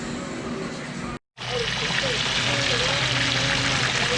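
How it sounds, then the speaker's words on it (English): Fish sizzling steadily in a fryer outdoors in the rain, a constant bubbling hiss with a brief dropout near the start, then continuing loud and even. "got the fish frying"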